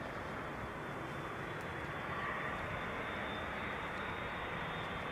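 A nine-year-old airliner, first flown in October 2014, arrives at Amsterdam Schiphol Airport on a sunny July day, its engines a steady, broad roar that holds constant with no voices.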